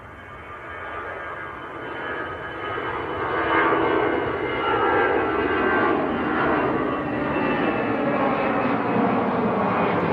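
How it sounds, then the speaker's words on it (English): An Aer Lingus Airbus A320 departing Manchester Airport for Dublin, its engine roar building gradually from a moderate rumble to a loud, sustained broadband thunder that holds steady to the end. "Next departure, here it comes, Aer Lingus to Dublin,"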